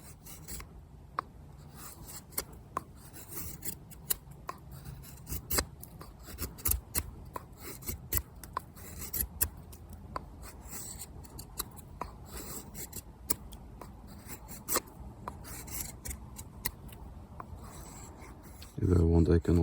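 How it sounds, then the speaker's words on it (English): A small bushcraft knife by Czech knifemaker Pietro, with an O2 steel blade, carves fine feather shavings from wood in close, repeated short scraping strokes, ending in a louder thump. "If I want, I can also create finer shavings"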